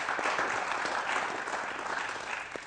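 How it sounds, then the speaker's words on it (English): Steady applause from an audience, dense continuous clapping that holds for a few seconds and tapers slightly. "A big round of applause for Loma."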